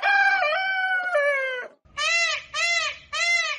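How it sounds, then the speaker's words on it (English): A rooster crows once, loud and close, followed by three short, bright squawking calls with brief pauses between them. "Rooster."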